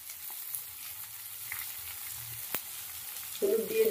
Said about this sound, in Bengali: পেঁয়াজ কুচিটা সব দিয়ে দিলাম তেলের মধ্যে।